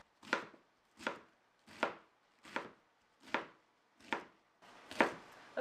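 A knife chops through a head of cabbage for coleslaw on a cutting board, seven sharp, evenly spaced strokes about a second apart, close and clear with no talking.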